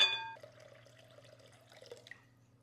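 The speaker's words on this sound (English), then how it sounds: "It's 640 grams of warm water." Warm water being weighed out for sourdough bread, trickling into a bowl on a kitchen scale; a faint, thin pour with small drips, quiet and close.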